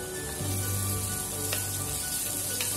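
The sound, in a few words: sautéing ginger, garlic and green chillies in a pan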